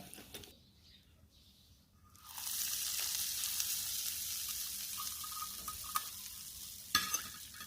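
A quiet start gives way to a sudden burst of sizzling as mustard seeds, chillies and asafoetida hit hot oil for a chutney tempering, crackling steadily with a couple of sharp pops near the end.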